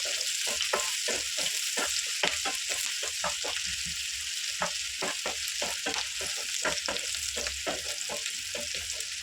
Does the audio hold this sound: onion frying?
yes